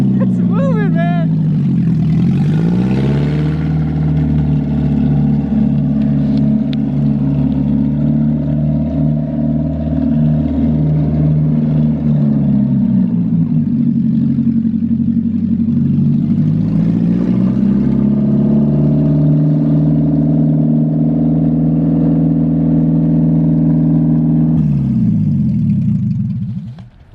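A Toyota AE86 on its first drive runs with a loud, steady engine drone, rising and falling gently in pitch as it rolls along, with voices talking over it.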